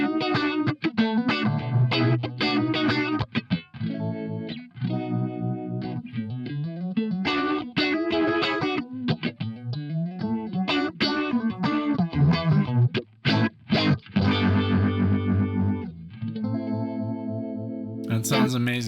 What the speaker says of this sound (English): It sounds more like an envelope filter possibly.